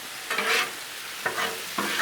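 Ground beef and onions sizzle on a hot Blackstone griddle while a utensil scrapes and stirs in three short bursts, close and moderately loud.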